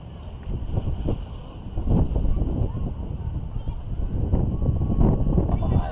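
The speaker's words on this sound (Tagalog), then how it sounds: "Lakas ng hangin." Strong, steady wind at a beach in Pundaquit buffets the microphone with a constant roaring rumble, gusting louder and softer throughout.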